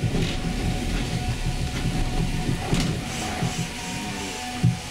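A Budapest cog railway from 1874 climbs into the Buda Hills, giving a continuous low rumble with faint rhythmic clicks and rattles from the moving car. No one speaks over the steady noise.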